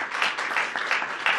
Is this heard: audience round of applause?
yes